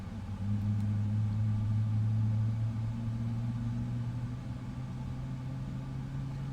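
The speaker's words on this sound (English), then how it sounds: "The engine is starting nicely as well" An Emirates Boeing 777-200LR jet engine spools up at night, heard as a steady low hum with rising tonal whine, distant and muffled as if from inside the cockpit, with no talking.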